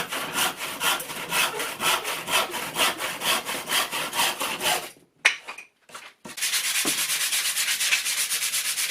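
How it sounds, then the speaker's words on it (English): Rhythmic back-and-forth sanding of scrap wood for a bee hotel, close and steady strokes, a brief pause with a few knocks, then faster continuous rubbing resumes, no talk. "so we've given that a good old sand"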